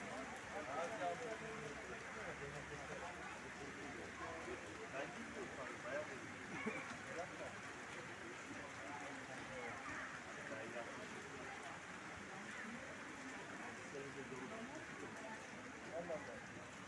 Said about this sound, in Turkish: Yaz yağmuru.